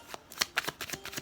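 Tarot cards are shuffled close up in a quick burst of crisp riffling flutters and soft slaps, about half a dozen short strokes.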